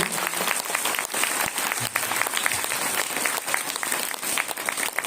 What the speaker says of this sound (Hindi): चलिए यीशु के नाम पर ताली बजाइए